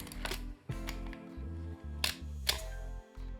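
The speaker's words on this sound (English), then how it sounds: "Release the shutter by pressing the shutter button." A 35mm film camera's shutter release fires twice, two crisp mechanical clicks close to the microphone over a steady low hum, with no talking.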